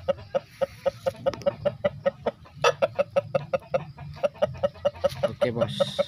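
A fighting rooster (ayam aduan) clucks in a steady series of short, sharp calls, close and fairly loud, with a low rumble of background noise underneath.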